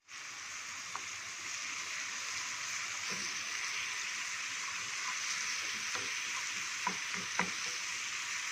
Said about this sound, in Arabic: انا حاطه هنا على النار ده تومه مهروسه